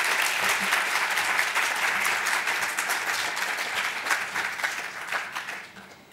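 An audience at an art forum claps to welcome a speaker to the stage, a dense, steady crowd applause that holds evenly and then tapers off toward the end.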